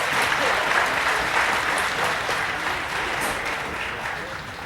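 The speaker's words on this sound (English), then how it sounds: "if you folks want to clap, that'd be about the time" An audience at a colt starting session bursts into sustained applause, a dense wash of clapping that stays loud before fading slightly toward the end.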